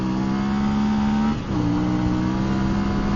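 A lightweight motorcycle revs and accelerates up a quiet hill road, its engine a steady close drone that dips briefly as it shifts into second, then climbs again with rising pitch.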